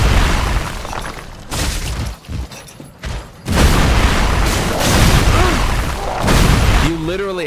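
The Gargoyle's fire breath attack in the video game Dark Souls 3 comes as heavy booming, crackling bursts with brief gaps between them, loud and close, with a voice rising near the end.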